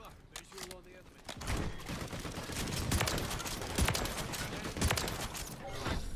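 Reclaimer 18 shotgun blasts in MW3, several booming shots at irregular intervals over a dense wash of other gunfire, with a voice speaking faintly.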